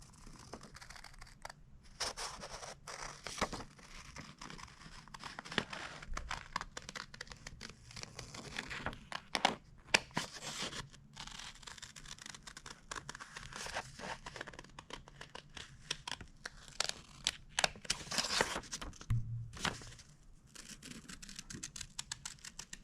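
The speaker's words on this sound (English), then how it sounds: "take your paper scissors and cut along your line" Paper being cut with paper scissors while making a felted birthday crown: steady close, quiet snipping and crinkling of paper over nearly twenty-three seconds, with rustles and small handling noises and no talking.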